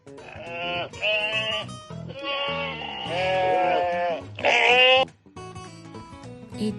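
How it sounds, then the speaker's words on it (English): A farm sheep bleats several times in a row, wavering calls close by and loud, separated by short gaps, with no talking over them. "Here comes a sheep."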